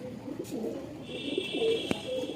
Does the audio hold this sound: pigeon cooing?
yes